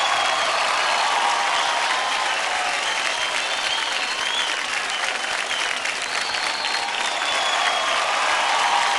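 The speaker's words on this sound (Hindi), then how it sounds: "जोरदार ताली हो जाए अदिति के लिए" Loud, dense applause from a studio audience after a kids' dance performance on a televised dance competition, sustained clapping at an even level throughout with cheering mixed in.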